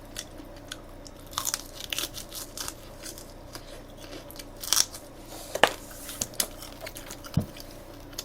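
Close, crunchy bites and chewing on Korean fried chicken eaten with raw green onion, a string of sharp crackles scattered over a steady background hum with no talk.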